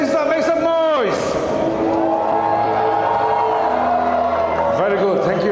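A basketball crowd at an under-23 league game cheers and whoops for the champion team while an announcer's amplified voice rides over the sustained roar.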